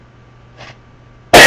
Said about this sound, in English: the more I cough